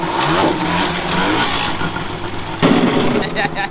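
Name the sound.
Yamaha Banshee engine revving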